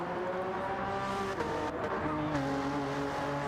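Race cars pulling out of the pits on a warm-up lap in Gran Turismo, with a steady layered engine drone and whine that holds loud and continuous throughout.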